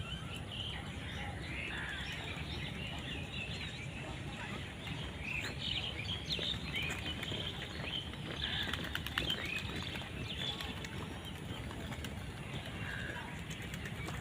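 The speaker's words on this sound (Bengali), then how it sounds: "অনেক পাখির কোলাহল" A large flock of birds in Jamboree Park, Agrabad, Chattogram, flaps its wings and calls together, making a dense, steady rustle of wingbeats with scattered chirps throughout, with no talk over it.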